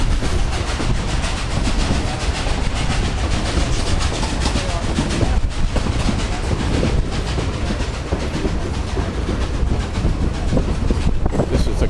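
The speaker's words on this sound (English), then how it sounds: "This is the Cumbres and Toltec Railroad, and we're on the train, and right now we're in the gondola car from our last car." A Cumbres and Toltec Railroad train rumbles along, heard from an open gondola car, with loud continuous wheel-on-rail clatter and rushing noise for the whole stretch, with no clear talk.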